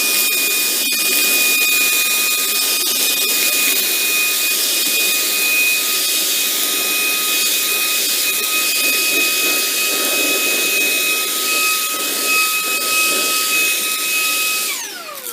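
A Shark ION handheld vacuum runs loud and steady while sucking up seeds, heavier green peas and larger wooden blocks, a continuous high whine with faint rattles of debris, then powering down at the end.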